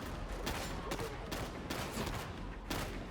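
Enemy scab gunners fire in the Warhammer 40,000: Darktide video game, a dense sustained barrage of rapid gunshots with sharp repeated cracks over a continuous loud roar of combat.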